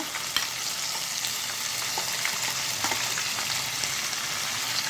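Ginger and garlic paste fries in a pan for a thin country chicken curry, a dense, continuous close sizzle with faint crackles and light stirring, no speech.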